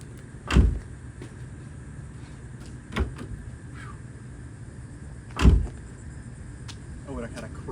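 A Nissan 350Z door with a replacement handle being worked, three distinct thumps and clunks of the latch and door spaced a few seconds apart, with faint voices near the end.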